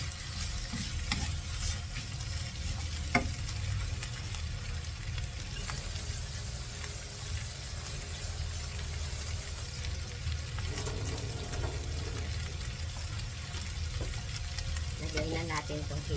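Shrimp and squid simmering in coconut milk in a pan, a soft continuous sizzle and bubbling with occasional scrapes and clinks of a stirring utensil, close but quiet.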